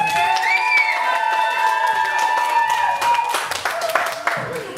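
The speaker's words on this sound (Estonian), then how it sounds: "teeme nendele suure aplausi" Crowd at a 2017 playback show applauding the judges; clapping and cheering swell under a tonal, music-like background, growing more scattered and percussive in the second half.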